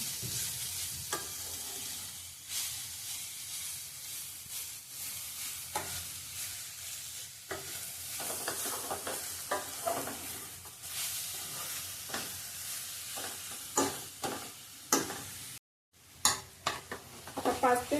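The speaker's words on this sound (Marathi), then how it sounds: "आता ह्यात बारीक चिरलेला गूळ आपण 1 वाटी घेतलेला मोठा ते आपण ह्यात घालून स्लो गॅसवरती आपण हे चांगलं 5 ते 6 मिनिटं एकत्र करून चांगलं घ्यायचं आहे।" Grated coconut and chopped jaggery are roasted in a pan on a low flame, with a soft continuous sizzle and frequent scraping and tapping of a spoon, close by with a brief cutout near the end and no talk.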